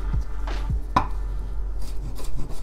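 Knife chopping peeled garlic cloves on a cutting board, for a spicy Georgian beef stew: a few sharp, separate knocks and scrapes of the blade against wood, close and fairly quiet, with no talking.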